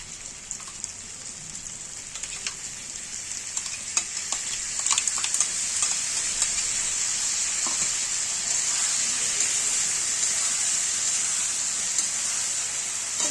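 Vegetables fry in a pan with garlic paste for a Bengali chhyachra, a bright steady sizzle that grows louder, broken by scattered scraping and clinking stirs early on.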